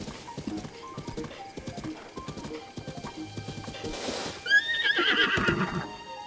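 A horse galloping across rough terrain in The Legend of Zelda: Breath of the Wild, with steady rhythmic clip-clop hoofbeats close up and a loud whinny breaking in near the end.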